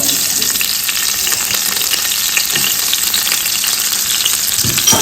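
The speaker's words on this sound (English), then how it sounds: "we'll add it to the pan and start with the sauce. Guys, we'll go ahead and add our chopped onion" Chopped onion hitting hot oil in a pan with gizzard and plantain, a loud, steady sizzle and frying crackle with a few stirring scrapes, no voices.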